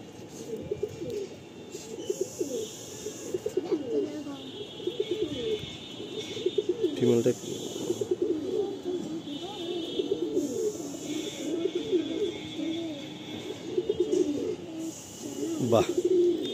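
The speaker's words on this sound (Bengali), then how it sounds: "এটা টাকি চোখের পায়রা" Fancy pigeons of a Taki-eyed breed from Kolkata coo in a steady, overlapping warble close by, with a few brief chirps and faint background activity.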